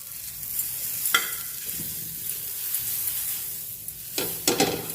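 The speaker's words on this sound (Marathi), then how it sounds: "आता आपण यावर थोडंसं अमूल बटर घालून घेणार आहे." Amul butter sizzles on a hot tawa, a low steady frying hiss broken by a few sharp scrapes or taps, fairly quiet and without talk.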